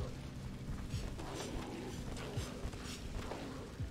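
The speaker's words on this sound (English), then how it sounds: "Look, look, it's start, just started raining, maybe we're in luck." Rain beginning to fall in the video game Don't Starve Together, a steady soft hiss of drops with faint low rumbling beneath, even and continuous, with no talk.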